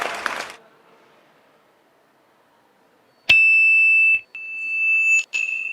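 A judge's buzzer on a Hindi dance competition show sounds as a sustained electronic tone, held for nearly a second, then broken into a couple more beeps after a brief gap, following a short burst of crowd noise and quiet.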